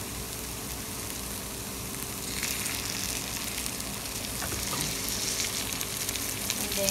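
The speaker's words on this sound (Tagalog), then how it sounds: "syempre ipapry muna natin siya hanggang maging golden brown" Onions frying in a little oil in a pan until golden brown, a steady crackling sizzle that grows slightly louder over time, with light stirring.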